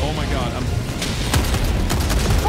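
A mech's machine gun in Helldivers 2 rumbles in loud, dense bursts of rapid fire and booms, with distinct sharp shots near the end, while a player talks over the clamor.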